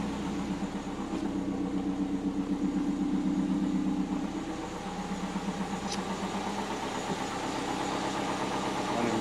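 A twin-turbo Subaru Forester engine idles high and running rich nearby, with a steady, slightly lumpy pulsing rumble that rises briefly then settles, with no talking.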